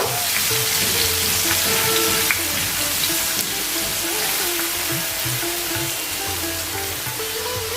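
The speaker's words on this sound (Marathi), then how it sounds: "कांद्याची पेस्ट घालूया व्यवस्थित परतून घेऊया हे सर्व" Onion paste sautéing in a pan with red chilli for a vegetable matar keema, a steady close sizzle and frying crackle running unbroken with no talk over it.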